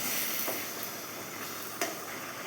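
Spices, curry leaves, dried red chillies and asafoetida tempering in hot peanut oil for a pickle, a steady soft sizzle and crackle with a couple of brief sharper pops, no talking.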